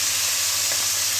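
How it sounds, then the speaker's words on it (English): Onions and mushrooms sizzle steadily in a hot pan still coated with meat residue, a continuous close frying hiss without talk. "we're going to use the same pan to put in our onions and our"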